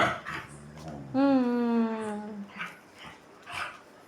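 A dog gives short yips, then a drawn-out rising and falling whimper, followed by a few softer yelps while playing excitedly indoors, all close and fairly loud.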